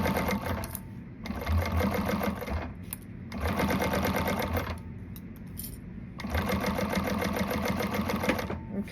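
Sewing machine stitching a pocket together for an Allegra garment, running in three bursts of rapid, even mechanical clatter separated by short pauses, close and distinct.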